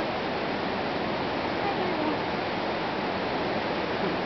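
Steady rushing flow of the Chattooga river, a dense, even wash of water noise close by with no pauses, continuing unchanged throughout.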